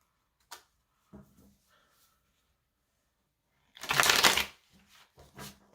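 Hoodoo Tarot cards are shuffled by hand in a few separate short riffles and taps, with one louder, longer flurry near the end, close and quiet with no talking.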